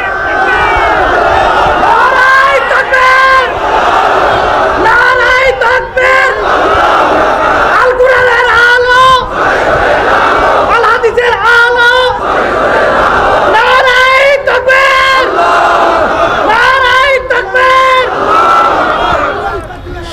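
A large crowd at an Islamic religious gathering roars "Allahu Akbar" in unison answering a Nara-e-Takbir call, the loud chanted shouts repeating in about five surging waves over a steady background of massed voices.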